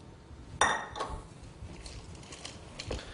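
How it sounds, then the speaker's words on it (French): Melted butter being mixed into madeleine batter of flour, sugar, baking powder and eggs, heard as a sharp clink of utensil on bowl followed by soft, irregular scraping and stirring, faint and close. "bien incorporer le beurre fondu dans la farine, le sucre, la levure et les œufs"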